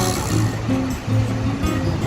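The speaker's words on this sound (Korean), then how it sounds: "오, 파도 보소" Ocean waves breaking at a Gold Coast beach, a loud continuous rushing surf roar with a wind-like hum running through it, no voices.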